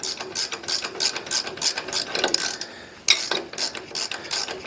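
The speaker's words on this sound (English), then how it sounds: "Speed wrenches to the rescue. So this bolt has to come out." A speed wrench ratchets a bolt out of a Brunswick A2 bowling pinsetter, giving quick rhythmic clicking bursts in a steady series with a short pause midway, close and fairly quiet, with no talk.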